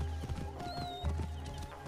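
Horse hooves clip-clopping in Assassin's Creed Origins, The Curse of the Pharaohs, a steady trot of close hoofbeats layered over game music with a brief tonal swell.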